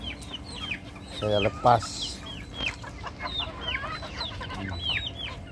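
Free-range chickens and Muscovy ducks let loose among banana trees cluck and call repeatedly, one bird giving a louder squawk, while someone talks briefly over the close, busy farmyard chatter.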